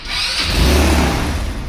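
A vehicle engine cranks and catches, a loud, close, rumbling surge that builds and settles into a rough idle, with no talking over it.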